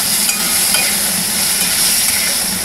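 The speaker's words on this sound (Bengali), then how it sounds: "মানে নুন, সামান্য একটু হলুদ দিয়ে ভালো করে আলুটা ভেজে নেব।" Potato pieces with salt and a little turmeric fry in a pan, a steady, close sizzling hiss continuing evenly throughout with no one speaking.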